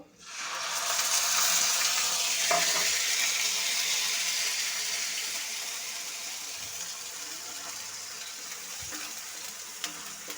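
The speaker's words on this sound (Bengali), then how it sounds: "পেঁয়াজ বাটাটা ভালো করে কষিয়ে নেব।" Onion paste frying with cardamom, cinnamon, cloves, black peppercorns and a bay leaf in a pan for egg korma, a steady hissing sizzle that swells early and then settles, with a few faint clinks.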